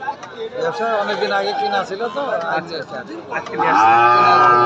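Cattle low repeatedly at a busy rural livestock market where heifers are sold, the loud moos running throughout under close conversation and crowd chatter.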